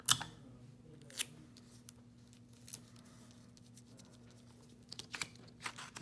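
Quiet scissors snipping embroidery thread at the back of the fabric, a few faint, brief close-up clicks spread across a near-silent background.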